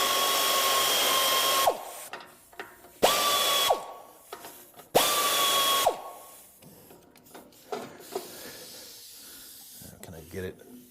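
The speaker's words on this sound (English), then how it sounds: "So I'm using my air ratchet at the moment to get this muffler off" An air ratchet works loose the muffler on a John Deere 401C, three loud bursts of whirring with a falling pitch as each run winds down, followed by clinks and knocks of tools nearby.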